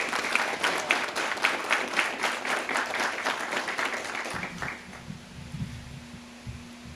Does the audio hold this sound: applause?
yes